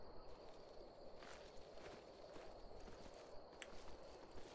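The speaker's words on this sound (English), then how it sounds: "No, there's just someone on a horse." Horse hooves clip-clop along a path in the video game Skyrim, a steady rhythm of soft, moderately faint footfalls that runs through the whole stretch over a constant background ambience.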